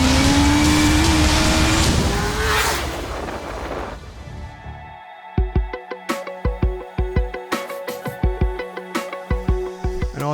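Kawasaki Ninja 1000SX sport motorcycle: a loud roar fades out, then after a brief lull a sharp rhythmic series of revving engine bursts and pops repeats close by, with no talk.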